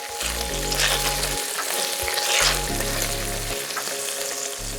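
Smoked bacon sizzles and browns in a pot, a steady dense crackle and hiss that continues throughout, with a low hum running underneath and no voices.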